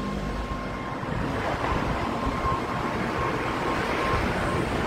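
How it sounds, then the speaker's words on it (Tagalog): Strong wind buffeting a microphone outdoors while walking along a street, a continuous loud rumbling roar with no voices. "Lakas ng hangin, diba?"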